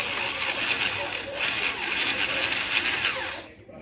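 A Worx cordless screwdriver whirs steadily up close while driving a screw with a stripped head, a continuous motor drone with faint ratcheting that cuts off abruptly at the end.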